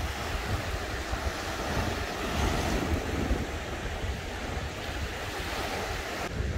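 Surf breaks and washes continuously on the Baltic Sea beach at Palanga, a steady roar of waves with gusty wind buffeting the microphone and no voices.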